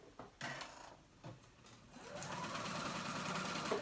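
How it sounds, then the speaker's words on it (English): A sewing machine runs a long basting stitch on cardigan fabric, starting after a few soft handling clicks and then whirring steadily and close for a couple of seconds. "I'm gonna put a long basting stitch on my fabric"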